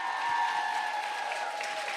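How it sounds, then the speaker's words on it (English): Audience applause for a contestant at a transformation contest, a steady wash of clapping heard at moderate distance, continuous and even for the whole moment. "Give her a big round of applause"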